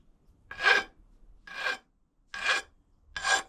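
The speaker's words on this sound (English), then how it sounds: "and then I can scrape the powder" A blade scraping powder coating off a bobber motorcycle part: four distinct rasping strokes, evenly spaced about a second apart, close and moderately loud, with near silence between strokes and no talking.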